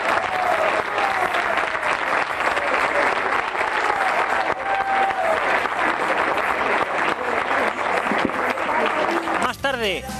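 Fans at an Atlético de Madrid training session give loud, sustained applause to the substitutes from the previous day's match. The crowd noise is dense and close, with cheers, whistles and voices mixed in.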